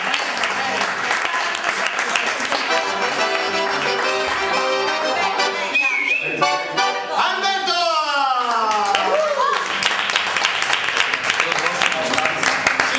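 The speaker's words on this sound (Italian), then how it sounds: "facciamo un applauso di Roberto!" Live theatre audience applauding a volunteer from the crowd at an Italian comedy show, steady sustained clapping filling the room, with music and voices over part of it.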